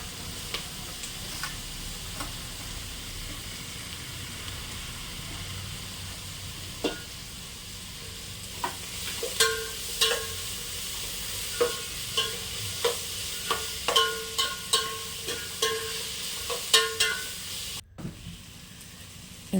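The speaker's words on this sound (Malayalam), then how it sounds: "നന്നായിട്ട് ഇളക്കുവാണേ." Ginger garlic paste and curry leaves fry in a pan while a spoon stirs them, with soft sizzling under repeated scraping clinks that come in a steady rhythm, close and fairly quiet.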